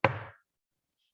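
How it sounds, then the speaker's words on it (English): One sharp, heavy knock on a house door, a single thud with a brief boomy decay and then silence. "A loud knock resounded through the house."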